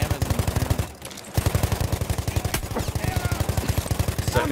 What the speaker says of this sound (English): Machine gun, look lively.